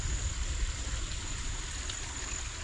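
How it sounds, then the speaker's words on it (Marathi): A small spring carries water running down from a hill fort in the monsoon, making a soft, steady, continuous trickle and rush with no voices. "हे गडावरून पाणी जे वाहत येतं त्याचा हा झरा आहे छोटासा"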